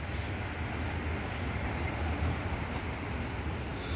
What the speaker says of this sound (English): Hear that, folks? Looks like there's a train coming.